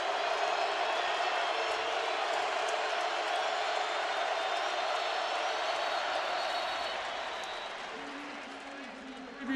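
Massive stadium crowd of about 93,000 at the 2008 Alabama vs LSU college football game roaring and cheering in a broad, continuous wash that fades slightly toward the end, with a commentator talking over it.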